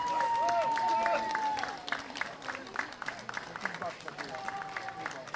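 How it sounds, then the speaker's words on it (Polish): Applause from an audience for a children's folk dance group at the Watra 2023 festival, steady and fairly distant for the first second and a half, then thinning into scattered claps under crowd chatter and tonal sounds. "Wielkie brawa Łastiwoczka!"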